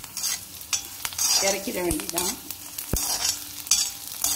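Chopped onion and snake gourd sauté in a pan for a South Indian poriyal, giving a steady soft sizzle with scraping stirs of a spoon against the pan, close; a brief spoken word passes over the cooking sounds.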